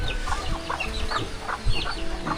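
Hens cluck nearby on a farm in a run of short, repeated clucks and mutters, clear and fairly loud.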